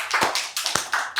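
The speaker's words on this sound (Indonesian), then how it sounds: "Jadi tepuk tangan buat kita semua" A burst of hand clapping from a team at a year-end meeting, several quick sharp claps in a close, uneven rhythm lasting about a second.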